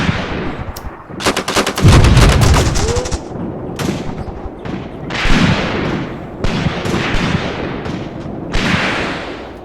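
Gunfire in a WW2 tank warfare game set in Tunisia 1943, loud bursts of machine-gun fire and single heavy shots in rapid clusters, some close and sharp, others more distant, with brief gaps between volleys.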